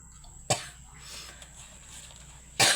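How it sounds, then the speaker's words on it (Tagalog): Two sharp, loud coughs from a person cooking chicken tinola, one about half a second in and another near the end, separated by a quiet stretch. "Pasensya na po mga kananay, inuubo po talaga ako."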